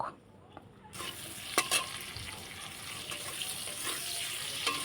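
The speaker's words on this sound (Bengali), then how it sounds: "এদিকে আলু ভাজাটা হচ্ছে হোক" Steady sizzling of potatoes frying in hot oil, a constant hiss with a few brief clicks and clatters near the start.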